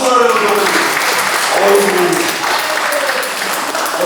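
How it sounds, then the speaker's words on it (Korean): Church congregation applauding during a Sunday service, a broad, sustained wash of clapping that fills the room, with faint voices mixed underneath. "감사하고 박수를"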